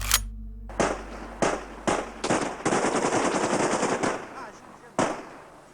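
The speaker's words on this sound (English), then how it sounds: "Over 120 bullets ended the regime." Firing-squad gunfire in a concrete courtyard: a burst of over 120 bullets cracks out in ragged, overlapping volleys, loud and close, with sharp bursts separated by brief pauses.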